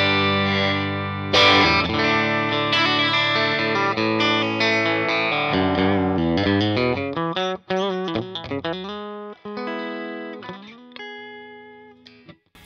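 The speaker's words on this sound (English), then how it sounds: "my clean tone on the bridge sounds like this." Clean electric guitar on the bridge pickup through a Fender Blues Jr tube amp, strummed chords then picked single notes and arpeggios, close and fairly loud with no voice over it.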